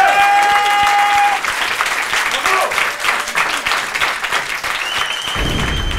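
Audience applause fills a studio hall during a French television show, a loud, dense and continuous patter of many hands, with a voice briefly heard over the clapping near the end.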